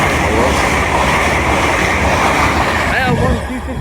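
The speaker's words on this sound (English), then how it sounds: "Pass through now are a dual pair of LNER Azumas from London King's Cross to Leeds." A pair of LNER Azuma trains running through Newark Northgate station on the East Coast Main Line, a loud continuous roar and rushing wheel noise close by, fading slightly at the end.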